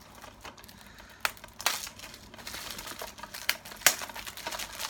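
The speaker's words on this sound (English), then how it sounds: "So we're gonna get the plastic off of this." Plastic shrink wrap is peeled and torn off a 4K Blu-ray case, giving quiet crinkling and several sharp crackling bursts close by, with no talking.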